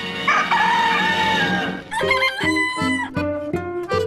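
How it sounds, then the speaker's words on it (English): A loud, close cockerel crow, the British Pathé mascot call, a long strained call followed by a series of rising and falling harmonic notes, heard alone. "Think British Pathé and you think the crowing cockerel"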